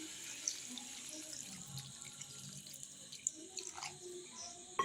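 Water trickles from a tap into a cooking pot holding boiled jackfruit seeds and potatoes, a faint, thin splashing stream with soft clinks of the vessel, quiet and close in a kitchen.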